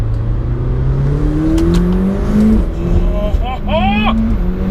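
A McLaren 720S's 4-litre twin-scroll turbocharged engine revs and rises in pitch as it accelerates, with a turbo-like whine, while a person talks over the steady road rumble.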